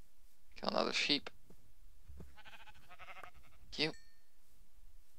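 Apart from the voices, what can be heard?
sheep bleating in a video game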